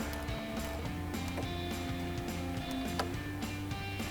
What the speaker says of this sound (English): we'll take our 10mm ratchet wrench